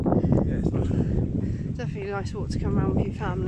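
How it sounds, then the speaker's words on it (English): Wind gusts across an open hillside walk at Burrator reservoir on Dartmoor, a steady buffeting roar on the microphone running the whole time beneath close conversational talk. "Sorry about the wind."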